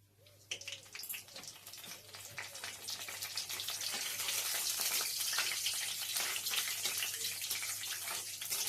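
Dried red chilli, cinnamon, cloves, cardamom and fresh bay leaf hit hot oil, the crackling sizzle building from quiet to a steady, loud spatter.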